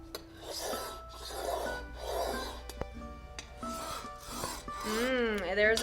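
Smooth rolling-wheel glass cutter scoring glass in a few close, steady raspy strokes with brief pauses between passes and no voices.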